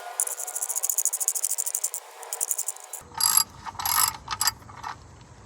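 Wrench being snugged down on the oil pan drain plug of an MK4 Volkswagen Golf 2.0, giving close, rapid ratcheting clicks that then shift to a few short, louder bursts of turning.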